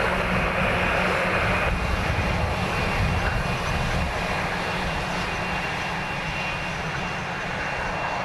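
An aircraft engine at Dublin Airport, from a Saab 2000 or an Airbus A300, gives a loud, continuous roar. It holds steady throughout and eases slightly near the end, with no voices.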